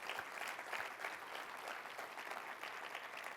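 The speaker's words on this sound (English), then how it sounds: "Big round of applause for our JTalks speakers so far." Audience applauds speakers at a conference summit, a dense, even burst of many hands clapping from a crowd, sustained and fairly distant, with no one speaking over it.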